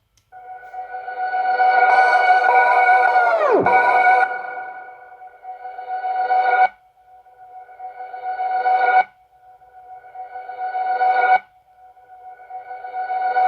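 A sampled tone with reverse, pitch-stop, tape-stop and panning effects: a long swelling note dives sharply downward, then shorter reversed swells rise and cut off abruptly in a repeating pattern.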